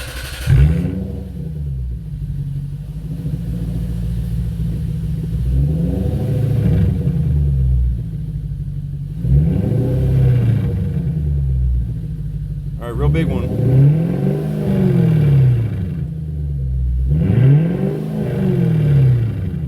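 A Lexus SC430 with a 3UZ-FE V8, muffler delete and Dynomax resonator, revs repeatedly in a series of deep, loud rising-and-falling swells about every two and a half seconds, with people talking between the revs.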